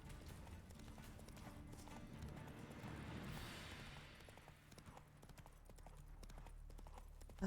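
A horse's hooves clip-clop at a steady trot in The Witcher 3, with continuous rhythmic hoofbeats under a dense game soundscape, moderately loud throughout.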